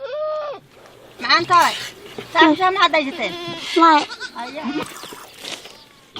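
A herd of goats bleats in short wavering cries, close and overlapping, while a narrator speaks over them.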